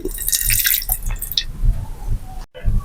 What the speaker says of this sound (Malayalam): ഇനി ഇതിലേക്ക് രണ്ട് വലിയ സ്പൂൺ വെള്ളം ഒഴിച്ചു കൊടുക്കുന്നുണ്ട്